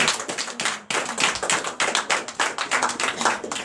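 Congregation clapping in acclamation at a Beninese night deliverance church service, a fast, steady rhythm of many hands close and loud, with no voices over it.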